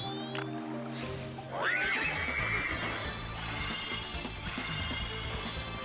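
Horse neighing in the Spectrobes Origins video game, a single rising whinny over steady game music and ambient sound.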